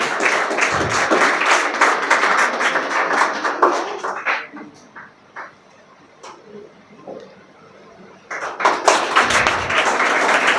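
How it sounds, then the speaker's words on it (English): Audience applause at an English academy confidence-building event, breaking out in bursts of clapping, thinning to scattered claps midway, then swelling again loudly. "Everyone big round of applause for sir."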